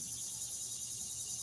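Cicadas buzz in a steady, unbroken high drone through hot weather, sounding close and even with no pauses or voices over it.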